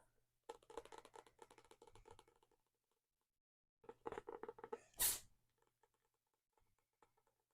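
A cat gives one sharp, loud sneeze amid soft tapping on books on a nightstand, brief and close in an otherwise quiet room.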